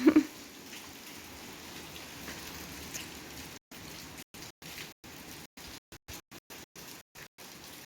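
Soft steady rainfall patters nearby, a gentle constant hiss, briefly punctuated by a louder knock at the start and choppy dropouts later.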